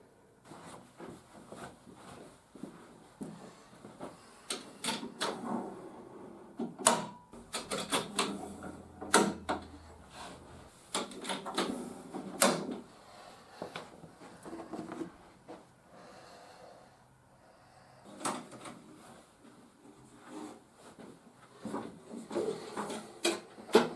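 A folding wooden 00 gauge model railway baseboard unit with fitted legs and hinges being opened out indoors in a hallway, a close series of knocks, creaks and rubbing clatters in uneven bursts with no talk.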